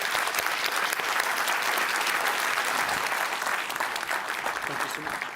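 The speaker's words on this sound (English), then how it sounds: "let's give a big round of applause to General Cavoli" A large audience at the 2023 NATO Public Forum applauds General Cavoli, dense sustained clapping that stays loud and even throughout before easing slightly at the end.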